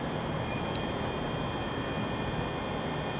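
ScotRail Class 156 diesel unit 156462 at Glasgow Queen Street station, a steady low engine rumble idling at a distance with no clear change over a few seconds.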